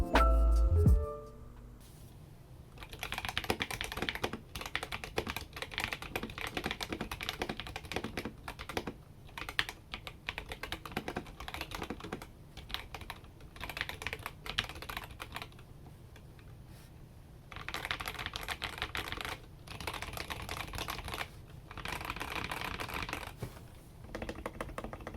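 Typing on a CIY Tester 68 mechanical keyboard fitted with Outemu Panda switches: close, continuous bursts of clacky keystrokes with short pauses between runs, heard alone.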